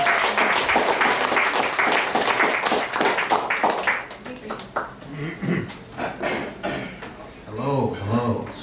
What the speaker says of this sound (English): Can we get a round of applause for Daniel?